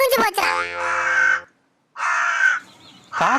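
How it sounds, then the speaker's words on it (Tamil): Crow cawing loudly and close, a few harsh drawn-out caws with short gaps between them, heard alone without talk. "காக்கா கா கான்னு சொல்லிட்டு போய்"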